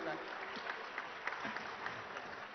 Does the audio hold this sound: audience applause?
yes